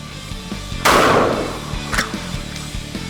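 A shotgun firing double-aught buckshot rounds on an outdoor range goes off once with a loud, sharp blast and a long decaying tail, then a fainter second report follows about a second later.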